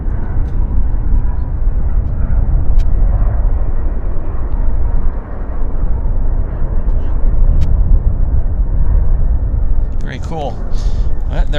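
A plane rolling for takeoff on runway 08 right at Vancouver YVR airport, a steady broad roar that stays loud and continuous throughout, with a few chirps and a brief voice near the end.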